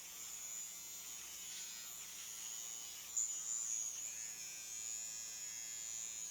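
A Flawless facial hair removal electric razor buzzes steadily and close, a faint high-pitched whine used in circular motions on the face, with a brief louder bump partway through.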